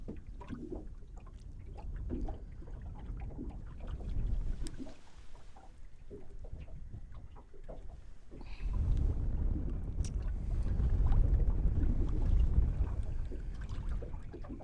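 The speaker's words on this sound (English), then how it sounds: "I know it's getting windy as all get out." Wind gusting over open water on a catfishing boat trip, a steady rushing buffet against the microphone that swells louder in the second half, with light knocks and splashes from the boat.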